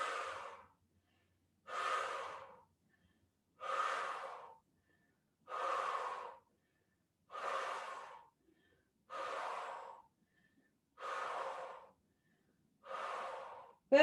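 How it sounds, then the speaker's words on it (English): Eight slow, steady exhalations through pursed lips during a posture and pelvic core yoga exercise, each a soft breathy whoosh about two seconds apart, close and clear with silence between. "Imagine you're breathing out of a straw,"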